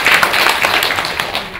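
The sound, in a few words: audience applause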